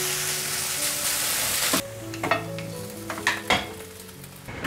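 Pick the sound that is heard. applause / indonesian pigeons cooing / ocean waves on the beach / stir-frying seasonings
stir-frying seasonings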